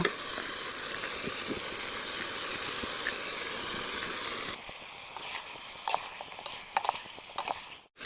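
Gobi Manchurian fries in a pan with onions and sauce, giving a steady close sizzle for about four seconds, then a quieter hiss broken by sharp spatula clicks and taps.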